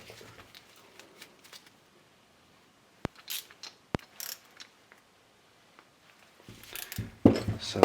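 Piston of a 10th-generation Honda Civic rear brake caliper being screwed in and out by hand, producing sparse mechanical clicks and ratcheting turns with a couple of sharp snaps and busier clattering toward the end.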